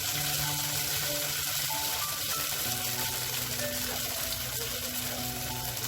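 Ghevar batter poured into hot oil makes a steady, dense sizzle and bubbling hiss, close and even across the whole stretch, with a low background hum and no talk.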